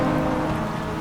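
Steady, dense hiss of rain falling on a race track in the rFactor 2 racing game during a Le Mans 24-hour endurance event, loud and continuous with no voices.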